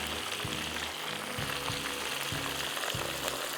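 Butterfly shrimps fry in hot oil with a constant dense sizzle and crackle, steady and close, over a faint low rhythmic pulse in the background.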